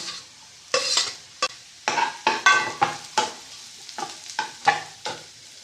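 Chopped garlic and chilli sautéing in a pan with a soft sizzle, punctuated by a series of close spatula scrapes and stirs in an uneven rhythm.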